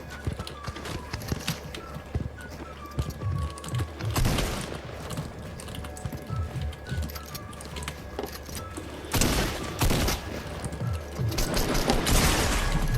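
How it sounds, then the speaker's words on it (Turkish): Gunfire in a Fortnite video game firefight comes as rapid bursts of shots. A loud volley around the middle is followed by more heavy firing near the end, over constant game ambience and faint voices. "Burada bir çatışma çıkmış."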